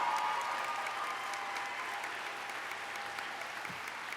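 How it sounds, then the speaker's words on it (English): A large graduation commencement audience applauds the standing educators, steady dense clapping filling the hall at a moderate distance and holding evenly for several seconds without speech. "You deserve a big round of applause for your excellent work."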